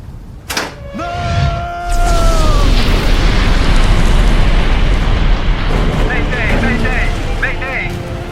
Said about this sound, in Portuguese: Ocorreu uma explosão a bordo.